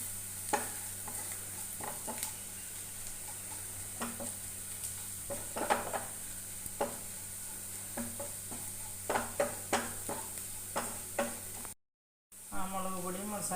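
Onions with coriander, turmeric and chilli powders frying in a pan, a steady sizzle running throughout while a spoon scrapes and stirs in frequent sharp strokes, close and clear, with a brief dropout near the end.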